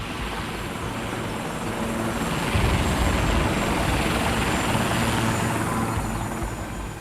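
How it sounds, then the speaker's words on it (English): A helicopter circling overhead in the Colombian countryside, a steady loud rotor thrum that swells slightly in the middle and then eases, with no voices. "And the chopper started circling where we'd been."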